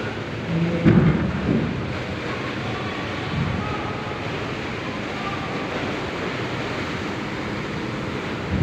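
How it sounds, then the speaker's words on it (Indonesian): Rough sea in extreme stormy weather at Merak, Banten, roaring as a steady, loud broadband wash of crashing waves and wind with no let-up, a slightly heavier surge near the start. "Ombaknya kurang bersahabat, cuaca ekstrim di"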